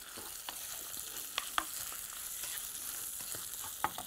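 Shrimp and garlic frying in a pan give a steady close sizzle, with small stirring scrapes and clicks from a spoon scattered throughout; no one speaks.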